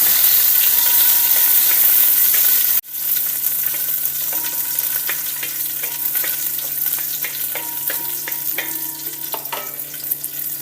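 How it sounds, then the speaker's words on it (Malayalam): Raisins sizzle and fry in hot ghee for a sweet pumpkin dish, a dense, steady crackle close to the pan that drops briefly as they are stirred and then carries on with faint clinks. "ഇനി കുറച്ച് കഴുകി വെച്ചിരിക്കുന്ന മുന്തിരിങ്ങ ഇതുമൊന്ന് മൂപ്പിച്ചെടുക്കാം"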